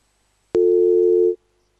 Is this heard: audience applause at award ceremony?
no